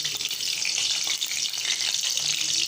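Oil heating in a frying pan before papad goes in, a steady soft hiss and faint sizzle held close and even throughout, with no talk.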